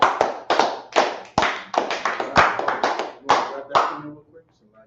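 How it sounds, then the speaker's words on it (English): A group in a class setting claps, a dozen or so loud, close, uneven bursts of hands over a few seconds mixed with voices, then stopping abruptly. "Let's clap it up for the class."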